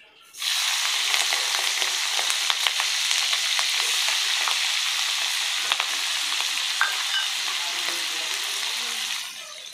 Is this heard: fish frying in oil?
yes